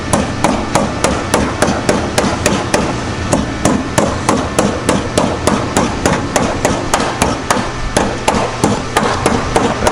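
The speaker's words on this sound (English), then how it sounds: "this lip, you just hammer it in" A hammer strikes steadily on the lip of a new door skin on a Chevy Camaro SS, sharp metallic blows in a fast, even rhythm, loud and close with no talking.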